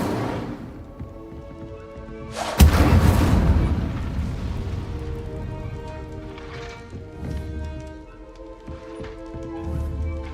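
Incendio fire spell cast in the Hogwarts Legacy video game, a sudden loud burst of flame that flares and then fades into a crackling, rumbling tail.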